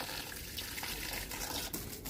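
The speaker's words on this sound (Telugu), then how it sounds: "ఇప్పుడు నేను నీళ్ళు పోసేది నాటు గులాబీకి" Water is poured onto a red native rose plant in a home garden, a steady gushing splash of liquid that runs without a break and has no talk over it.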